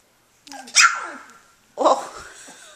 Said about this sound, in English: Who are you barking at, Carmel?